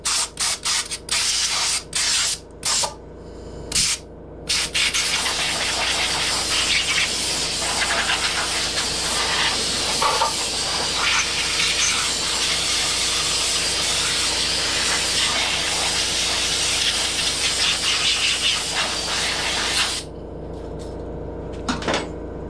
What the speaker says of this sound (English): I'm going to fire the compressor up